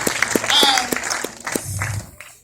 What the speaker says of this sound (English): go ahead, you can clap, go ahead, go ahead, clap, yes.